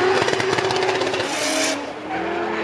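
Drift cars at the Falken drift show at the 24h Nürburgring roar past with loud engine revs and squealing, skidding tires, close and continuous.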